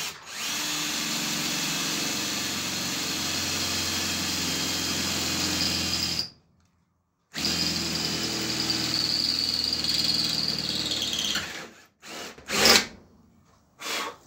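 A Ryobi 18V cordless drill-driver bores with an 8 mm bit in a long steady whine, cutting out for about a second before resuming, then ending in a few short bursts; no talking.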